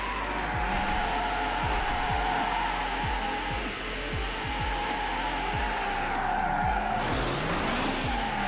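A supercar oversteers and skids through a turn in Need for Speed Hot Pursuit 2, its tires squealing over a steady engine roar, with a rising slide and scrub near the end, loud and continuous with no talk.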